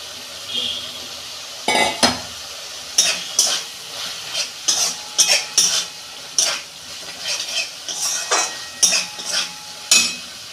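Potatoes are stirred into a frying pan for a Bengali banana-flower curry, a spatula scraping and clinking against the metal in repeated close strokes over a soft sizzle, with no speech.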